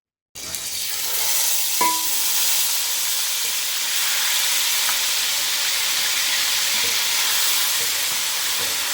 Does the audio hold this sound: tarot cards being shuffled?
no